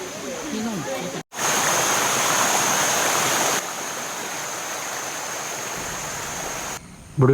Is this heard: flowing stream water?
yes